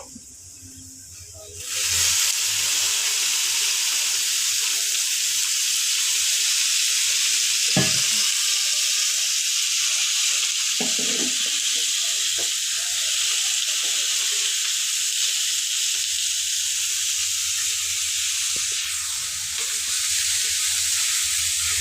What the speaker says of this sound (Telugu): టమోటా ఉల్లిగడ్డ బాగా దోరగా ఎంతవరకు వేయించుకోవాలి ఇట్లా నూనె వేసి వేయించుకున్నామంటే